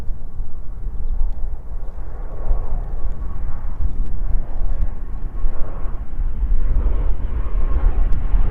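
A Singapore Airlines A350 landing at Christchurch: a loud, steady jet roar with broad rumble, sustained throughout and fairly close, with no clear talk.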